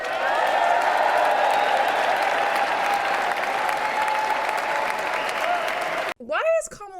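A large crowd applauds at a presidential inauguration: steady, dense clapping that holds loud for about six seconds before cutting off into a brief burst of speech.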